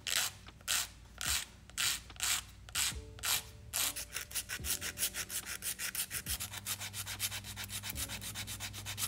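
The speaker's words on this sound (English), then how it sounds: "I'm going to go ahead and take my 100-100 grit hand file and start reshaping the nails." A 100/100 grit hand file reshaping dip powder nails, giving close, quiet rasping strokes, first slow and spaced, then quicker and rhythmic.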